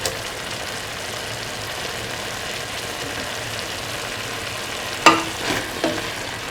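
Tomato pieces frying in a pan for a beef, carrot and ivy gourd stew give a steady, moderate sizzle, with a few sharp scraping clatters from stirring near the end.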